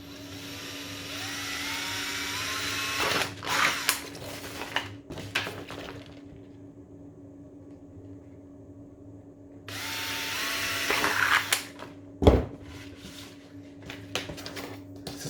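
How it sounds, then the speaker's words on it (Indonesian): A power drill bores holes through a clear plastic sheet in several bursts of whining, near and fairly loud, with a pause in the middle and a sharp clunk near the end. "Saya bakal bor titik-titik itu."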